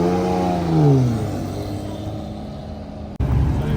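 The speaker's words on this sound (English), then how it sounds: "Testarossa coming out of the show" A Ferrari Testarossa pulls away from an exotic car show in Canada, its engine note rising in pitch then settling into a steady drone, with a sharp break near the end as the sound cuts.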